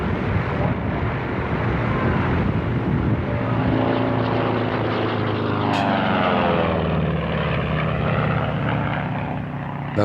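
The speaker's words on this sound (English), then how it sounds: "The Spirit of St. Louis, with its lone pilot and 450 gallons of fuel, was in the air." Propeller drone of the Spirit of St. Louis, a 1920s single-engine monoplane heavily loaded with 450 gallons of fuel, climbing after a long takeoff run; loud, steady and continuous, with pitch shifting midway as it passes.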